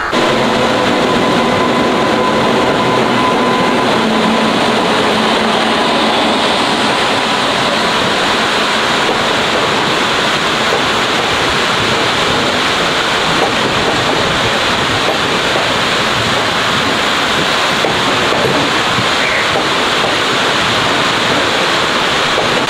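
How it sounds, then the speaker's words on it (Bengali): Loud, constant roar inside a moving Shantiniketan Express train, an LHB coach, a dense broadband rush of track and air noise with no speech. "আমি এখন বসে আছি শান্তিনিকেতন এক্সপ্রেসের D1A 2S কম্পার্টমেন্টে"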